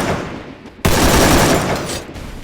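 Rapid AK47 gunfire from the Free Fire video game, a loud burst of shots that starts abruptly and rattles on for over a second before tapering, with quieter game noise before it.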